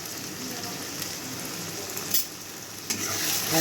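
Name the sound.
masala frying and being stirred for egg curry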